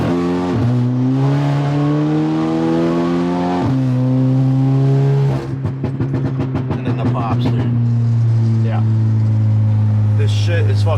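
Stage 2 tuned Audi A3 four-cylinder turbo engine at full throttle, heard loud from inside the cabin: a steady droning hum rises in pitch, drops at a gear change, then turns to a rapid crackling burble before climbing again.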